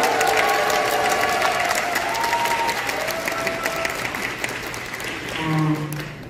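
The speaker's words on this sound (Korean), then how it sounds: "박수 한번 부탁드려도 감사합니다." Concert audience in a large theatre hall applauding an indie band, steady clapping with some cheers that slowly thins out, while faint tones and a voice from the stage sound underneath.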